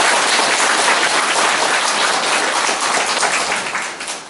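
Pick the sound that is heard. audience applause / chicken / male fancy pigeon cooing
audience applause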